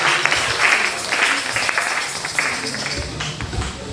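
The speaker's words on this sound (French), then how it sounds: "On applaudit, on lit pour terminer la parole de Dieu." Church congregation applauding during a live French-language service, a steady wash of clapping throughout with some voices mixed in.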